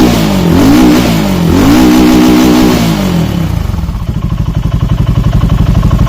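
A BSA 650 Gold Star motorcycle engine revs loud and close, swelling and dropping twice before settling into a rapid, lumpy idle pulse.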